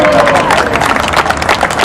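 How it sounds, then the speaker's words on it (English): A crowd at a birthday gathering in Londonderry, New Hampshire breaks into loud, close applause, a steady wash of many hands clapping with some cheering and murmur throughout. "we obviously should give a round of applause to Elliot"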